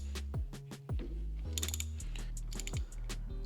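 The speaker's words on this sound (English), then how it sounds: "From there, I use the socket and hold the bottom and get this thing on there as good as I can." A deep socket ratchet tightens an oil pressure gauge fitting, its close, steady clicks and short rattling bursts repeating alone with no talk.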